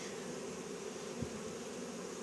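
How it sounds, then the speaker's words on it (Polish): Honeybees buzz steadily around a hive during a spring inspection, a continuous close drone of many wings with no voices. "Ale pszczoły też przylatują z pola z pyłkiem w dużej ilości"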